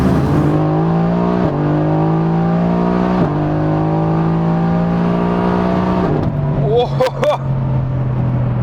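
A tuned 1300+ hp Mercedes-AMG GT R accelerates hard in Dubai, the engine note climbing steadily through several gear changes, loud and close, then breaking into a brief squeal as the tyres spin near the end.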